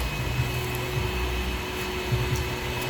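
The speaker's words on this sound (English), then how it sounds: "you could plug in the hose into the output and kind of turn it into a blower." A DeWalt DCV581H cordless wet-dry vacuum runs as a blower with its hose plugged into the output, giving a steady, close whooshing motor drone with a faint whine and a few soft bumps, no talking.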